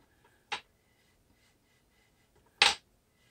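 Arm peeling away from a palette knife during paint pouring, two brief, sharp sticky clicks about two seconds apart, close and otherwise quiet.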